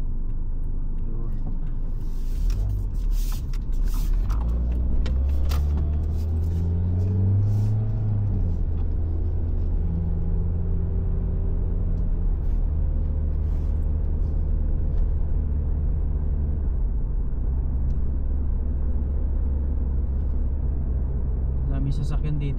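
A vehicle at a car-charging spot in New Zealand gives a low, continuous rumble close by that lasts the whole stretch, while a person talks steadily over it.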